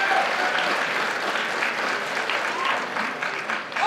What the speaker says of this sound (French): Donc on peut applaudir bien fort.